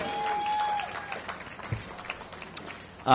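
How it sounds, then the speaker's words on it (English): Modest audience applause outdoors at a construction start ceremony for a building phase, scattered claps thinning out after a brief tonal squeal near the start, faint and uneven. "That deserves some applause."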